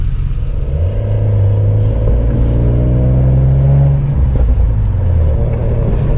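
Cars passing on a road make a loud, close engine rumble that rises and falls, heard from near a stationary G37 with no voices over it.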